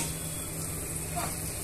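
Chopped onion and green chilli pieces fry in hot oil in a tempering, giving a steady, soft sizzle throughout with a faint stir near the end.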